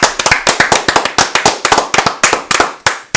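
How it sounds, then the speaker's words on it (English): Enthusiastic applause from a small group on a sports talk show, rapid overlapping claps at close range, loud and continuous for a few seconds. "Let's give it a round of applause."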